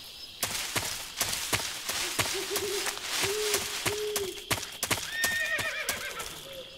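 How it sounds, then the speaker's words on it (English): In Metal Gear Solid 3, a horse gives several whinnying neighs over a steady run of sharp clip-clop hoofbeats, heard up close with no talking. "Why was there a horse?"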